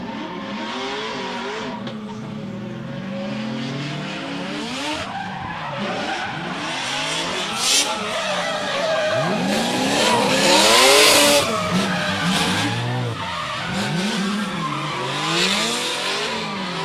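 Rotary-engined drift car at a competition drift event, engine revving hard and tyres screeching continuously through a long, loud skid close by, with no talk.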